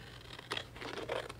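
Scissors cutting a decorative border strip for a vintage wood planter give two quick, close papery snips about half a second apart, faint and without talk.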